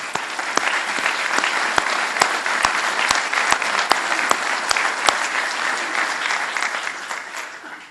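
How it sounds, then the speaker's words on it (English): An audience applauds at a 2015 IMPD police honor awards ceremony, dense, loud steady clapping from a large crowd that continues evenly and fades slightly at the end. "Let's give them a round of applause, please."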